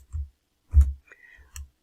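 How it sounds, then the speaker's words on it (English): A single key press on a computer keyboard, the minus key, gives a sharp, close click among a few other soft taps and desk thumps. "I'm going to zoom out by pressing the minus button on your keyboard."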